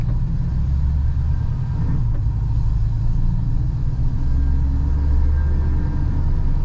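A pickup truck fitted with a swapped 4L80e automatic transmission hunts for third gear while driving, giving a steady loud low engine rumble and road drone with no talking.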